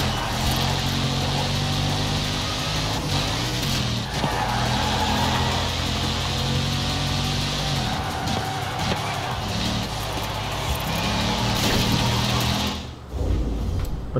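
Lexus LFA engine in Forza Horizon 4 holding a loud, sustained buzzing drone with shifting pitch as it revs and changes gears through a lap, cutting off abruptly near the end.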